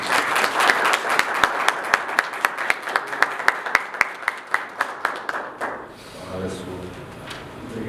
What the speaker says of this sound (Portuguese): Vamos aplaudir Rafael Belmonte